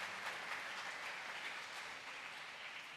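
A church congregation at a candle-lighting service at a Baptist church in Gudur claps in praise, producing a faint, steady wash of applause with no talking.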